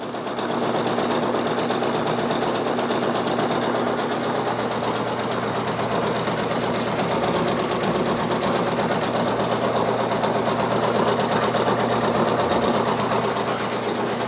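A Brother Persona PRS 100 embroidery machine stitching a design, a loud, close, continuous rapid mechanical stitching hum that holds steady throughout.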